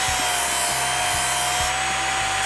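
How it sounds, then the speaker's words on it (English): Kitchen knife pressed against a running belt sharpener, a loud continuous grinding whine with a steady motor tone and rhythmic strokes as the blade is drawn across the belt. "Keep it 90 degrees to the belt, roughly, and turn it over."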